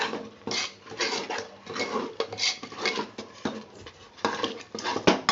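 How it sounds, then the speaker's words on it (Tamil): A spoon stirs thick sweet pongal in a metal pot, scraping and knocking in a steady repeated rhythm close by, with no voices. "நல்லா கிண்டணும்"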